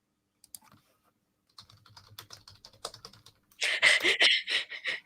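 Computer keyboard typing, sparse and light key taps at first, then a dense, louder burst of rapid clattering keystrokes toward the end, with no voices.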